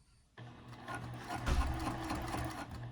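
A sewing machine starts up and stitches steadily through the fabric of a double-pocket wristlet clutch, a close, even mechanical whir and rapid needle chatter that runs without pause after a quiet start.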